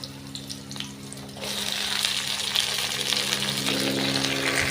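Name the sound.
onion and garlic frying lightly in oil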